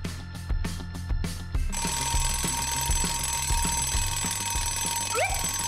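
An alarm clock rings loudly and close by, first in three short bursts and then as one continuous ring that does not stop. No one speaks.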